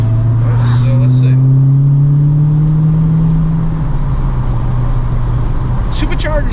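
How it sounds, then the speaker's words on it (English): Car with a supercharger and a K&N drop-in air filter driving, a loud steady engine drone with a rising whine as it accelerates, a voice talking over it. "Supercharger's a little bit louder, not a whole ton."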